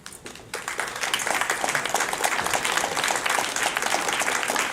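An audience at a networking event gives a sustained round of applause, dense steady clapping from a room of people throughout.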